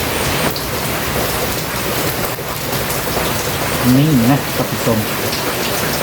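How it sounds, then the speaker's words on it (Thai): Heavy rain falls steadily in a Thai forest during a bamboo-shoot gathering trip, a dense close hiss on surfaces throughout, while someone speaks briefly over it. "มาฮอนเฮือนแล้วฝนตก"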